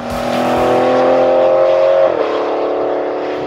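A big Aston Martin V12 car engine, in a Vanquish Volante, holds a loud, steady high-pitched rev, then the pitch drops sharply as it shifts, continuing a strong drone with no talking.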